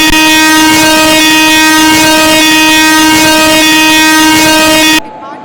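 An express train at an Indian railway station sounds a long, loud, steady horn with harmonic tones for about five seconds, then the horn cuts off and only quieter station ambience remains.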